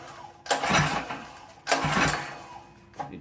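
A Predator small engine is pull-started with hard rope pulls: two loud broadband whirring bursts of about a second each, then a shorter third tug, close by with no running engine after.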